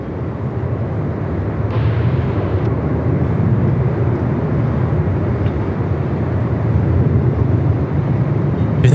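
An aircraft landing at Melbourne Airport in 45-knot winds gives a loud, continuous engine roar layered with gusty wind rumble, steady throughout and without voices.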